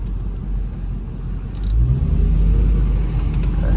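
A modified 1975 Chevrolet Camaro drives along with a steady low engine rumble that swells louder and rises partway through as it accelerates, heard close and with no talking.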